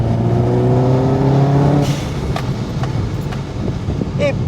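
Subaru Impreza STI Spec C WR Limited rally car, 350 bhp, accelerating hard with a loud rising engine note close by, then easing off to road and wind noise with a few sharp pops and a voice talking.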